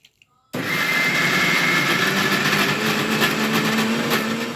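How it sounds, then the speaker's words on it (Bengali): A kitchen mixer grinder whirs loudly and steadily, blending green peas with salt and a little water into a paste. It kicks in abruptly after a couple of faint clicks and runs continuously. "কড়াইশুঁটিটা আমি মিক্সিতে ভালোভাবে পেস্ট করে নিই।"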